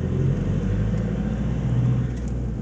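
A car cruises steadily over freshly laid, smooth asphalt, giving a continuous low rumble and tyre whir heard from inside the vehicle, loud and even throughout.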